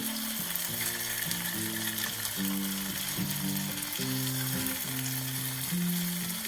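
Fish fillets, washed and patted dry, sizzle steadily in a pan for an Italian seaside dish, a soft continuous frying hiss beneath melodic background music, with no talking.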